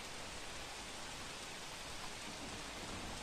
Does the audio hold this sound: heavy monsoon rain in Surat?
yes